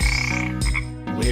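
A frog croaks loudly and close in a quick series of deep, rattling calls separated by brief pauses.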